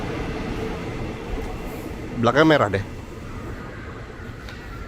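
A KRL Inka electric commuter train at Depok station gives a steady, moderately loud rumble throughout, with a brief spoken phrase near the middle.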